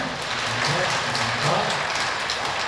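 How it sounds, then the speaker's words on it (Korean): A church congregation applauds steadily, the clapping dense and even throughout. "축하의 박수 한번 칩시다."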